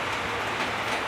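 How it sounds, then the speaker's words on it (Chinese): Rain in Bangkok drums steadily on a canopy roof, a dense, even wash of close patter with no voices over it. "听得到那个雨声打在那个棚子上的滴滴答答的声音"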